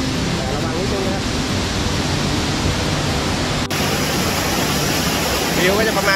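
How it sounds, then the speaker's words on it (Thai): A waterfall with a pool at Jed Kot Pong Kon Sao in Thailand roars in a steady, dense rush of white water, loud and near throughout. "น้ำตกตรงนี้น่าจะเล่นได้แต่ไม่แนะนำมันก็จะเป็นแอ่งสไลเดอร์"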